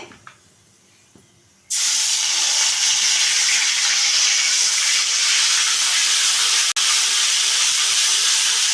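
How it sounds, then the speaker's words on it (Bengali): Whole cumin seeds hit hot oil for tempering, a sudden loud, steady hissing sizzle that starts after a quiet moment and holds, close and dense with a brief dip near the end. "গোটা জিরে ফোড়নে দিলাম"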